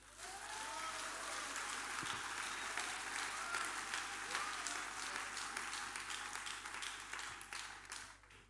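Congregation applauding at a church service, a steady wash of many hands clapping for about eight seconds before tapering off, heard from some distance.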